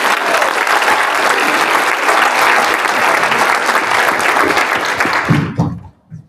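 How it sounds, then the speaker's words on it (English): Audience applause at a SHiNE 2026 talk: a dense, loud, steady roar of many hands clapping for about five seconds, then it cuts off abruptly into near silence. "Let's give her a big round of applause."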